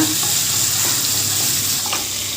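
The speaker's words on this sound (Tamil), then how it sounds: "2 தக்காளியும் போட்டு அதையும் வதக்கிக்கோங்க" Onions and tomatoes sizzle steadily in a hot pan for Chettinad fish curry, a loud continuous frying hiss with light stirring scrapes and no talk.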